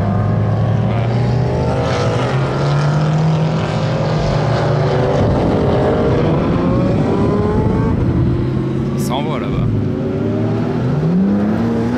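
A McLaren Senna accelerates away at full throttle, its engine roaring loud and near with rising pitch through gear changes over a continuous wash of road noise.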